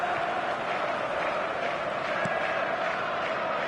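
Stadium crowd in the eFootball 2025 football game, a steady distant roar and murmur of fans with no distinct cheers or breaks.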